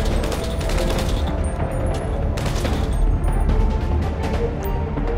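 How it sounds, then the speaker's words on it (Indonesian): Dense gunfire in the zombie survival mode of GTA 5, loud rapid shots and booms running continuously in a sustained fusillade, with a brief tonal whine partway through. "Tapi ada suara tembakan"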